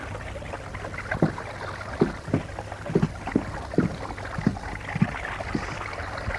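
A boat moves on water at night, with soft rhythmic knocks and splashes of paddles or oars at a steady pace of roughly one per second, quiet and close, with no talk.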